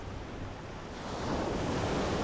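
Simulated tsunami wave from a La Palma landslide approaching the coast, a broad steady rushing roar that swells louder midway and holds, faint and distant in level.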